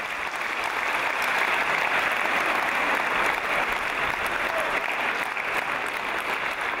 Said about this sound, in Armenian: Եկեք շատ ավելի բուրըն ծափահարենք, քան ձեզ գիտեք, ես շատ եմ սիրում ծափողություններ